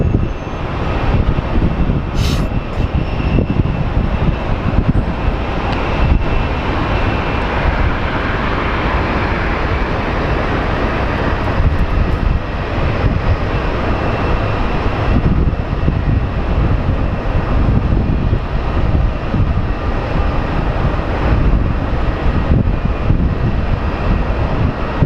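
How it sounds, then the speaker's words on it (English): Envoy flight 3902, a small airliner, arriving at Phoenix Sky Harbor International Airport, heard as a steady loud engine roar that holds at a constant level throughout with no voices. "Such a majestic little plane."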